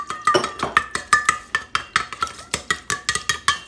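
Water and egg are whisked in a bowl for a brownie-based ice cream cake, a utensil clinking against the sides in a quick, regular rhythm of close, bright taps.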